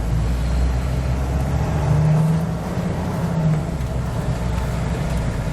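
A 2018 Jayco Greyhawk motorhome accelerates up to speed on a test course, a steady low engine and road rumble heard from inside with a slight swell in the middle.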